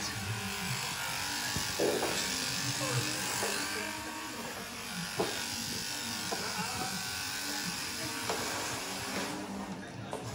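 Electric shears run at a steady buzz while an alpaca cria is sheared, continuous and fairly close, with a few soft knocks and animal sounds underneath and a person talking throughout.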